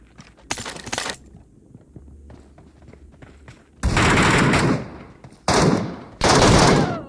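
Gunfire in PUBG Mobile: three loud, sustained bursts of automatic fire close by in the second half, following quieter scattered shots and faint game background early on.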